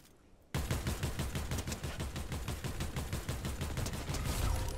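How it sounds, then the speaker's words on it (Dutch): After a brief lull, rapid automatic gunfire in a Fortnite match erupts and rattles on without pause, loud and evenly rhythmic like a machine gun. "Ik hoor hieronder echt schoten"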